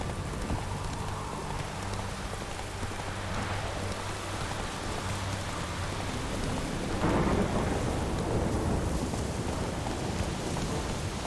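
A thunderstorm in The Witcher 3 brings a steady, dense hiss of heavy rainfall throughout, with low rumbling thunder rolling underneath and swelling louder partway through.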